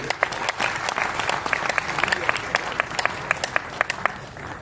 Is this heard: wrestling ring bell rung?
no